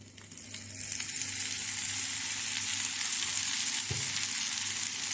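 Rice upma cutlets fry in oil with a loud, dense, even hiss that holds steady throughout, with one dull knock partway through and no speech.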